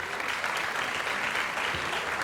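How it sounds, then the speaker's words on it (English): Audience applause at an evening film festival awards broadcast, a steady dense wash of many hands clapping at once that holds evenly throughout, loud and close with no talk over it. "Give yourselves a round of applause."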